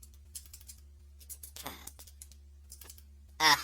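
Fingers type in short bursts on a computer keyboard, soft scattered clicks with a few louder clustered strokes near the end, over a steady low hum.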